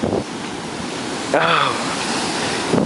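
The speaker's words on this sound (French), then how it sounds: "Puis là, ben, il y en a des vagues." Big ocean waves washing onto a beach in hot weather, a steady broad roar with wind buffeting the microphone and a brief voice exclaiming partway through.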